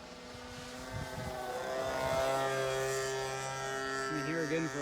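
A radio-controlled model airplane of almost 9 pounds, powered by a .61 engine, drones steadily with a rising and falling pitch as it passes, buzzing at moderate distance with a brief burst of low rumble early on.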